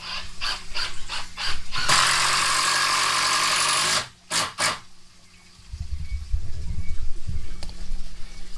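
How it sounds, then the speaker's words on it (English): A power drill drives 3-inch stainless self-tapping screws into a steel entry door frame. Quick short whirs lead into a loud, steady grinding run of about two seconds, then a few more brief bursts and a low rumble. "here we use 3-inch stainless self-tapping screws"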